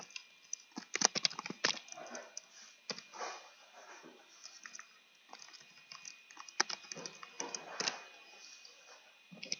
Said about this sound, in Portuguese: eu vou digitar minha mensagem aqui